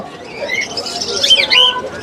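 Many birds at a bird market in Mirpur, Dhaka, including cockatiels, lovebirds, conures and budgerigars, chirp, squawk and coo at once, close and overlapping in a busy chatter.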